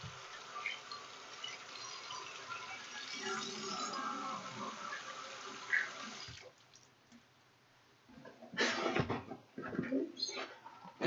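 Hands washed under a running tap: a steady splash of water for about six seconds, a brief quiet pause, then closer, uneven splashing and rubbing as the hands move under the stream.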